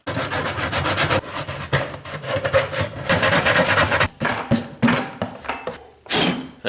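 A drill with a hole saw grinds through the center of a plastic five-gallon bucket in loud, rasping bursts, cutting out, pausing briefly and starting again close by.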